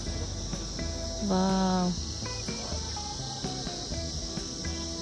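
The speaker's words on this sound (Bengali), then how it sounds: "পাহাড় তো অজস্র ঝিঁঝি পোকার মতো আওয়াজ হচ্ছে না, ডাকছে, মানে পোকা ডাকছে" Crickets chirp steadily in the mountains at dusk along the road to Lachung, Sikkim, a dense continuous high buzz with scattered nearer trills, while a voice briefly exclaims.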